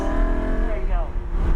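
A 2014 Lamborghini Huracan accelerating on a racetrack, its engine roaring loud and close with a steadily rising, revving pitch throughout, while a voice talks over it.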